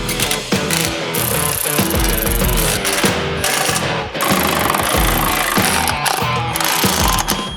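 A loud, continuous rattling power tool tightens fasteners on a light-up running board being installed on a 2007-2014 Chevy Silverado, close and harsh with brief dips, no talk.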